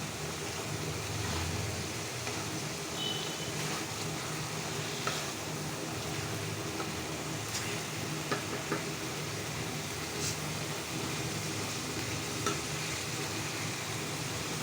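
Fish bhuna of large fish frying in a pan and being stirred, a steady close sizzle with scattered scrapes and light knocks of the utensil, no voices.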